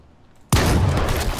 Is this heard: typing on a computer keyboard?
no